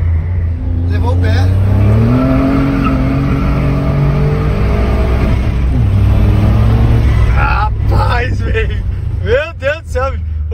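A modified Volkswagen Up Stage 4 car engine revs hard while accelerating, its rising drone climbing steadily and loudly through the gears, with someone talking excitedly over it and sharp whistling tones near the end.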